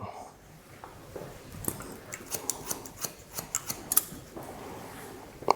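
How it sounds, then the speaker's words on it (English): Scissors point cut into hair to make it choppy: after a quiet start, a run of crisp, close snips comes in uneven bursts, some clustered quickly and others spaced apart. "I'm just going to point cut into this from the front. Make it really, really choppy."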